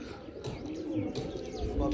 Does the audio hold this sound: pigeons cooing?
yes